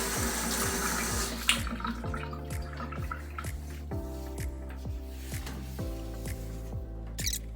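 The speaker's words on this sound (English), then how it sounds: "don't want any damage to my taps, so I'm going to wash it off" A bathroom tap runs water to rinse limescale remover off the taps, a steady close gush with splashing and dripping that softens slightly after the first second.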